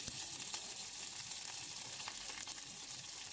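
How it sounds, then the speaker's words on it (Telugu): Curry leaves and tempering spices frying in a couple of spoons of hot oil for a tomato and drumstick curry, a steady close sizzle with fine crackling pops, heard alone. "నూనె వేసుకొని అలాగే తాళింపు దినుసులు వేసుకోవాలి తర్వాత కరివేపాకు వేసుకోవాలి"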